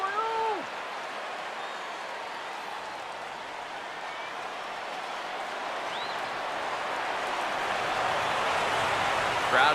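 Stadium crowd in MLB 14 The Show during a World Series game between the Giants and Royals, a broad roar that swells gradually toward the end, with a few faint whistles.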